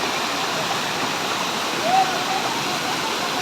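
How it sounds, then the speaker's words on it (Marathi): The Zenith waterfall near Mumbai, swollen by monsoon rain, pours with a loud, constant roar that fills the whole clip close at hand. "माझ्या पाठीमागे मित्रांनो खूप जोरामध्ये वॉटरफॉल व्हायला लागलाय."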